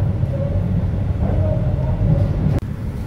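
A train crossing the bridge over the Hantan River on the line toward Yeoncheon gives a steady low rumble of wheels and carriage noise heard from inside, with a faint whine and a brief clunk near the end.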